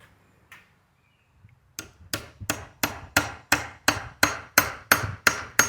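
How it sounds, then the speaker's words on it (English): A hammer taps a screw extractor into a broken bolt stuck inside a tool, about a dozen sharp, evenly spaced metallic blows that ring close and clear after a quiet start. "And then what I'm going to do is take a hammer."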